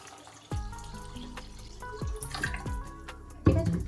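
Water poured into a cooking pot on a home stove, ahead of adding capsicum and chicken to boil, comes as a close splash and trickle, with a heavier pour near the end.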